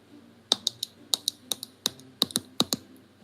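A person clicks their teeth together in a quick irregular series of sharp, dry ticks, close and fairly loud, sometimes in pairs, sounding much like keystrokes or mouse clicks against a quiet room.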